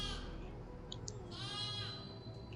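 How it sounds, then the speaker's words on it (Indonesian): A goat bleats in a quiet, wavering cry, twice with a pause between, faint and somewhat distant over a low background hum. "Di mana ini suaranya kambingnya?"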